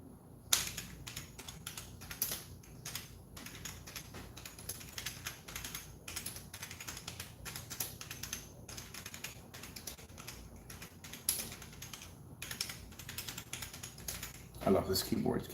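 Steady, fast clicking of keys on a computer keyboard goes on throughout, close and fairly crisp, with brief pauses and a faint background hum.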